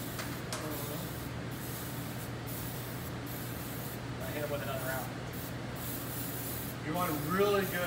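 Cooking spray hisses in repeated short bursts as cake containers are greased, a breathy spray sound over a steady low hum, with a voice talking faintly near the end.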